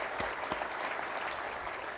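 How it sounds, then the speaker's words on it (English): An audience at a military forum applauds veterans, steady broadband clapping that fills the whole stretch at moderate distance, with no one speaking over it. "give a round of applause to the veterans in this forum"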